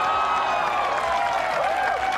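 A crowd at a doubles tennis match applauds after a point. The clapping is a dense, continuous wash that sounds slightly distant.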